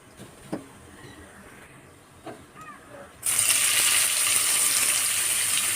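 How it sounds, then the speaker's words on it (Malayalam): Potatoes seasoned with chili powder, turmeric, pepper and salt frying in coconut oil: a few quiet clicks, then a sudden loud, steady sizzle that holds close and constant to the end. "ഇതിൽ കുറച്ച് മുളക് പൊടി മഞ്ഞൾപ്പൊടി കുറച്ച് കുരുമുളക് പൊടി ഉപ്പും കൂടി ഇട്ടിട്ടിട്ടാണ് ഇതൊന്ന് വറുത്തെടുക്കാം"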